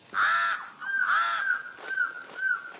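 Pied crows cawing near their nest high in the treetops, several harsh drawn-out calls one after another, clear and fairly close, with no voices.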